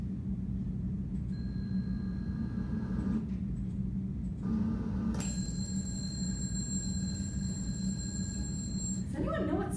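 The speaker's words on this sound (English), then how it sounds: "It's an alarm clock." An alarm clock rings in steady electronic tones, stopping and restarting in bursts over a constant low hum of background noise, with a brighter, fuller ring near the end.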